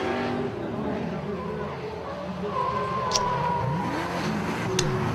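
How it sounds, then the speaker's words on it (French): A drift car runs on the Croix-en-Ternois circuit during a drift competition round, its engine droning at a middle distance and rising then falling, under steady French commentary. "Et c'est parti pour Frédéric Adam, run numéro 1."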